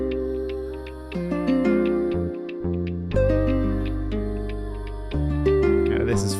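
Spanish guitar beat produced in FL Studio, with plucked nylon-style guitar phrases layered over a sustained vocal pad and deep bass, a dense, steady loop that plays loud and up front with no talking.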